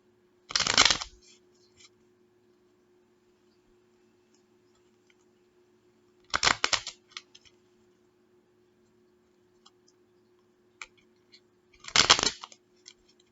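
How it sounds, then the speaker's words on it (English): Three separate bursts of playing cards being shuffled, each a quick riffling flutter lasting about a second, spaced several seconds apart over a low steady hum. "This shuffle is difficult"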